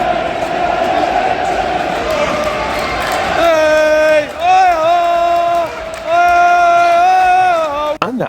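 Football stadium crowd at a Manchester United versus Fulham match: a dense roar of cheering for a few seconds, then sustained, tuneful crowd chanting that swells and dips, loud and continuous throughout.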